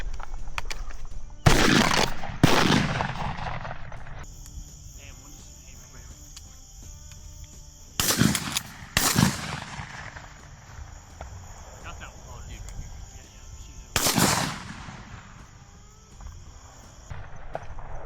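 Shotgun blasts during an Arkansas dove hunt, three loud, sharp reports spaced several seconds apart outdoors, ringing over a steady drone of crickets and insects, with some brief movement noise between shots.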